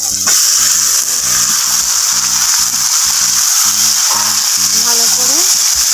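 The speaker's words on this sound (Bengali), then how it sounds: "আমি ওর মধ্যে ম্যারিনেট করা চিকেনটা দিয়ে দেবো।" Marinated chicken added to fried tomato and onion sizzles loudly and close in the pan, a dense continuous hiss with stirring scrapes and a faint hum underneath.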